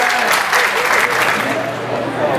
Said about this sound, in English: Big round of applause at that.